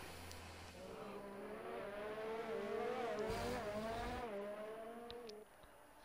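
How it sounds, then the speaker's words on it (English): A race car engine in a racing video game drones steadily throughout, rising and falling in pitch as it revs and shifts, at moderate level with no talk. "He's been replaced by engine sound"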